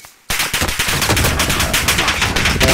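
Sustained rapid automatic gunfire in a military shooter game, loud and close, starting abruptly after a brief quiet moment and rattling on in dense bursts.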